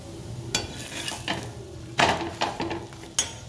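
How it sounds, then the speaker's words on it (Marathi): Pumpkin bhakri flatbread roasts on a hot griddle with a faint sizzle, broken by a few soft tapping knocks as the bread is pressed and turned. "इकडे आपली भाकरी भाजते आहे मित्रांनो"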